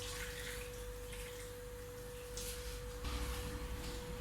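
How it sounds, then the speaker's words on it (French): Warm water poured into peanut butter for a mafé, a steady soft splashing stream at moderate level, swelling slightly toward the end. "on vient y ajouter un peu d'eau chaude ou tiède"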